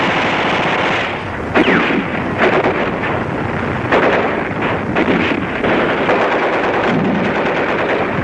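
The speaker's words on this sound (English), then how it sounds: "You still have small arms, grenades, rifles, and Bren gun, and the old Vickers machine gun" Machine gun fire rattles in rapid bursts during a battle around Dunkirk, loud and harsh under heavy wind-like rumble, with repeated volleys spread across the stretch.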